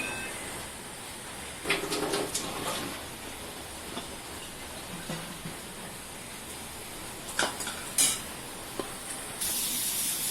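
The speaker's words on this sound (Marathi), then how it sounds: "आता पुन्हा दुसरे मोदक आपण तळायला घेतले" Wheat-flour modaks filled with jaggery and coconut deep-frying in clean oil, a steady soft hiss of bubbling oil with a few brief louder sizzling bursts, fairly quiet and close, with no talking.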